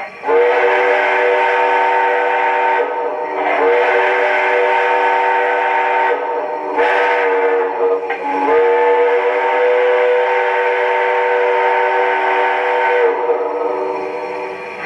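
An MTH Erie Triplex 2-8-8-8-2 model steam locomotive whistle plays the crossing signal: loud, close, chord-like blasts, mostly long with one shorter toot, separated by brief gaps.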